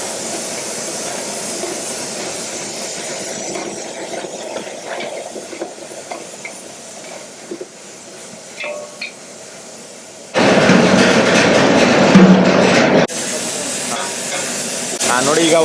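Onions frying in oil for a hotel-style vegetable pulao, with green chillies and half a kilo of tomatoes tossed in, a steady sizzle and stirring that swells into a loud, dense hiss near the end.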